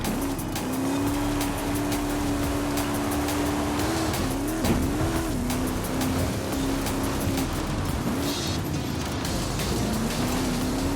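A Porsche flat-six twin-turbo engine drones at a steady, sustained pitch in Forza Horizon 5, rising and dipping briefly midway and again near the end, with faint tire noise beneath the loud, constant engine tone.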